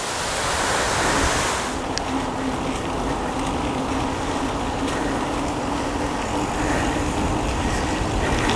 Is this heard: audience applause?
no